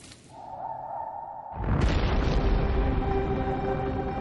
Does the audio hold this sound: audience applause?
no